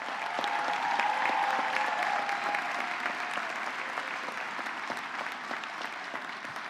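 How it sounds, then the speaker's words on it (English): A large audience applauds steadily at a Purdue University Global commencement ceremony, with dense, sustained clapping that stays loud throughout and has no talking over it. "Let's give our family and friends a big round of applause."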